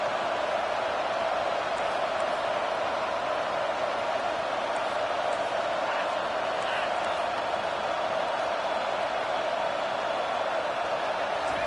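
Steady crowd roar at a football game in a video game, a continuous broad wash of noise holding at an even level throughout with no breaks.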